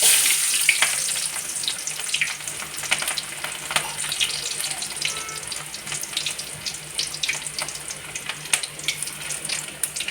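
Onions sizzle and crackle in hot oil while sambar is being made, a steady close hiss with scattered sharp pops and no voices over it.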